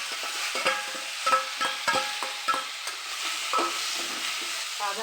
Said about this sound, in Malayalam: വറവ്